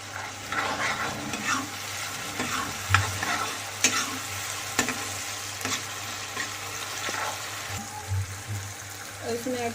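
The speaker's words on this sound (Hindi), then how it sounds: "अब तब तक हम इसको फ्राई करेंगे, तब तक अच्छे से गल नहीं जाता है।" Potatoes fry in a pan for aloo matar curry, giving a steady low sizzle with scattered scraping stir clicks throughout, close and moderately loud, with a voice briefly talking in places.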